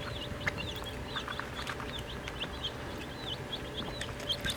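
Freshly hatched baby chicks in their coop give repeated high, thin peeps, many overlapping and fairly faint, over a steady low background hum.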